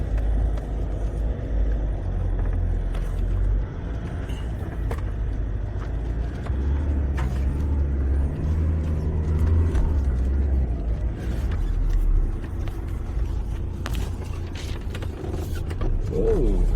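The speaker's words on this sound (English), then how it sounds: "So he's running along now in two-wheel drive and doing it quite easily." A vehicle in two-wheel drive bounces along bumpy Simpson Desert tracks on the Madigan Line, with a constant engine and road rumble and repeated creaks and rattles of the body and suspension throughout, sometimes with a faint voice inside the cab.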